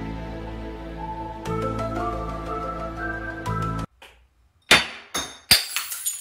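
Glass shatters nearby with a sharp crash and bright tinkling shards, then a couple more smashing impacts follow after a sustained musical tone cuts off.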